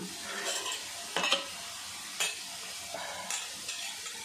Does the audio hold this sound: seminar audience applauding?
no